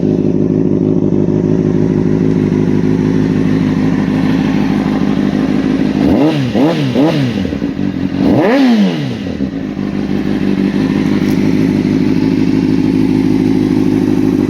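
A 2004 Honda CBR600RR sport bike fires up from cold, settling into a loud, steady idle with a couple of sharp revs blipped midway before returning to the even, close-up engine drone.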